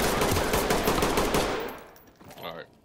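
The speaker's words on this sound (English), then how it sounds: "Shots fired in the building." Rapid automatic gunfire in the Ready Or Not tactical shooter game, a loud sustained close burst indoors that cuts off and echoes away, followed by faint voice chatter.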